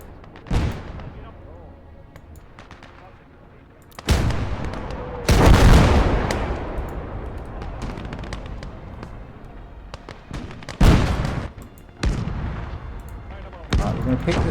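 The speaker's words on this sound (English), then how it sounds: "we need some artillery support here" Heavy artillery fire in the World War II battle game Blood Red Snow, with big booming blasts and sharp cracks landing at irregular intervals over a constant low rumble.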